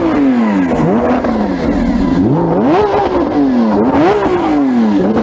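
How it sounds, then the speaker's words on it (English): Loud, close revving from a Lamborghini Aventador SVJ V12, the pitch climbing and falling in several repeated throttle blips over a continuous engine roar, with no speech. "Let's have some revs."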